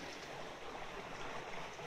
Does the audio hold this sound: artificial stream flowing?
yes